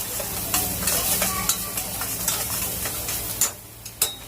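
Garlic, onion, beans and carrot frying in melted butter while a spoon stirs them, giving a soft continuous sizzle broken by regular scrapes and taps against the pan.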